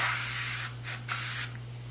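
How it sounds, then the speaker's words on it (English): Two short hissing bursts of a sunscreen spray can onto a hand, close and fairly quiet, separated by a brief gap over a faint steady hum. "I'm gonna spray it on my hand like this."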